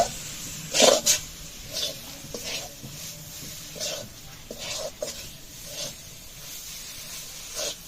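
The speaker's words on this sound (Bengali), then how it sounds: "এখন এই নারিকেলটা ভালো করে নেড়ে নেড়ে তারপর নাড়ুর মতো পাক আসবে এরকম করে" A spoon scrapes and stirs a thick grated coconut filling in a pan, giving irregular soft scraping strokes and occasional sharper clinks at close range, fairly quiet overall.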